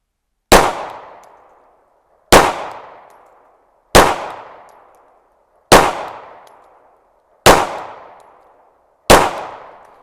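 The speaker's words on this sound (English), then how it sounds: "I'm going to shoot 5 shots in the number 5 this time." Handgun fired with the support hand only, six loud sharp shots at a steady pace of about one every two seconds, each ringing out briefly, with no talk.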